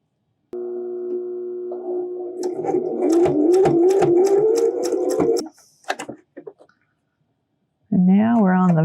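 A sewing machine stitches a fabric face mask for doctors, running in a steady, close buzzing whir for about five seconds before slowing and stopping. A few soft clicks follow, then a voice speaks at the end.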